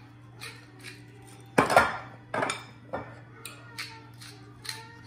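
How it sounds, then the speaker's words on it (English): Potatoes are tossed with salt and pepper in a bowl, giving a handful of sharp clinks and scrapes of utensil against dish in irregular bursts over a quiet, steady hum. "I'm gonna mix it with salt, pepper to your taste."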